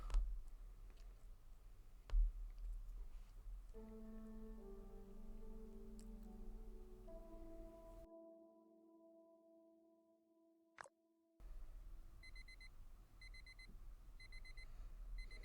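A ringing alarm clock in the mobile narrative game The Get Out Kids sounds as soft tonal beeps and faint ticking over quiet game ambience, with a short pause before a pulsing electronic pattern resumes.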